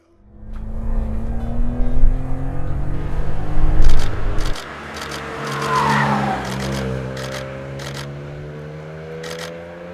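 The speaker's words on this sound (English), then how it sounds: "the Z3M Coupe, fully cranked over and working hard" A BMW Z3 M Coupe engine revs hard and climbs in pitch, then drops back to a steady drone as the car drives along, with faint clicking overhead.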